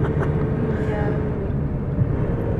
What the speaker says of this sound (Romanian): Trage foarte, foarte tare motorul.